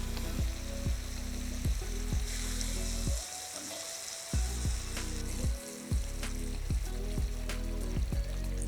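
Pumpkin curry frying hard in a pan as coconut milk goes in, a steady loud sizzle and bubbling that briefly drops out twice, with a low rhythmic pulsing underneath throughout.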